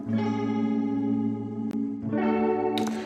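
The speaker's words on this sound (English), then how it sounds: "very dope tremolo sound" Sustained electric guitar chords run through an Amplitude 4 Calypso tremolo preset, pulsing and shimmering with a pause and a second chord, loud and close.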